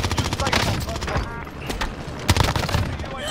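Gunfire in a Call of Duty-style shooter, with a Grau rifle and OTS9 in play, a shotgun among the weapons: several loud shots and rattling bursts over busy game noise, with a few voices talking in the mix.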